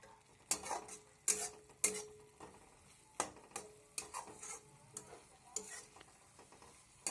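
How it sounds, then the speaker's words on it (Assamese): Spices frying in oil while a spoon stirs them, repeated scraping and tapping strokes against the pan over a soft sizzle, quiet and close. "মছলাৰ পৰা তেল এৰালৈকে সতি আমি এইখিনি ভাজি থাকিম কিছু সময় লৰাই লৰাই।"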